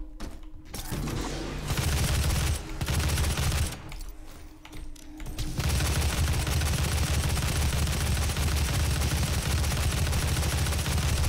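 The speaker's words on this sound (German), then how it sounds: "Dass ich dem hier einfach meine ganze Munition reinballer" A barrage of weapon fire pours out in DOOM (2016). The dense, loud bursts stop briefly twice in the first few seconds, then run as one continuous stream of shots with no talking.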